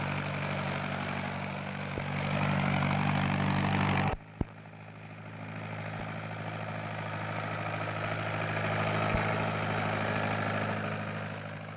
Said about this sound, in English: In April, all over the Corn Belt, the tractors are turning the earth, preparing for another year's crop.